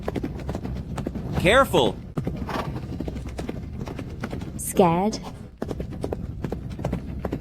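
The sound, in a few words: horse hooves clip-clopping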